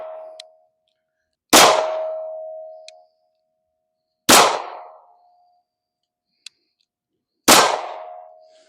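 Three sharp pistol shots ring off a steel target at about 15 yards, fired from a pistol with a mounted light. Each crack is followed by a clear metallic ring that fades, and faint ticks fall between the well-spaced shots.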